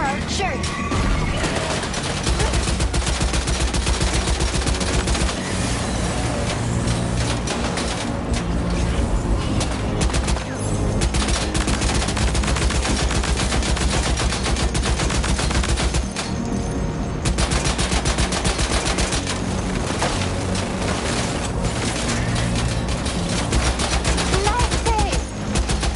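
Gunfire in the video game Death Stranding 2, dense sustained bursts of shots and heavy rumble over a loud game soundtrack, with voices talking now and then.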